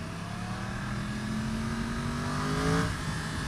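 A 2013 Yamaha YZF-R1 crossplane sportbike engine revs steadily and loudly, its rising harmonic whine climbing and peaking near the end of the burst, heard alone with no talk.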